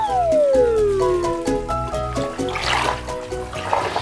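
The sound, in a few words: bath filling with water and bath foam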